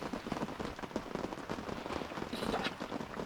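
Steady rain patters on a hot tent at night during a backcountry deer hunt in wind and wet weather, a dense continuous hiss with scattered sharper drop taps throughout and no voices.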